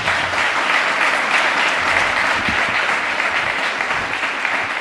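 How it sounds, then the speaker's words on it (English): An audience at the Metropolitan Wilmington Urban League's annual Lions and Legends gala applauds warmly, a thick, sustained wash of clapping that holds steady throughout. "ask that you give them another warm round of applause"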